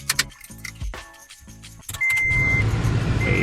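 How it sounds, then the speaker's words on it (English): Cabin air fan of a Toyota Tacoma switching on after some clicks and handling noises, then blowing a steady, close whoosh with a faint tonal whine. "we'll just make sure that our fan still works here"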